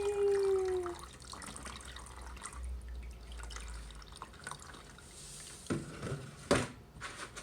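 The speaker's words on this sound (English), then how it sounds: "I'm gonna pour this water in here" Water poured into a dry plant tray, heard as soft trickling and dripping with a few brief splashes near the end, close and quiet.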